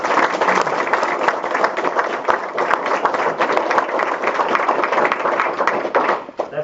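Crowd clapping at a town hall meeting in Carroll with a congressman, a dense, sustained round of applause close by that tapers off near the end.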